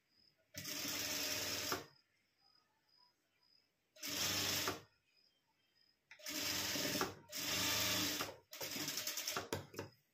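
A sewing machine stitching tucks on a blouse, running in several separate bursts of rapid mechanical whirring with quiet pauses between them, close and clear.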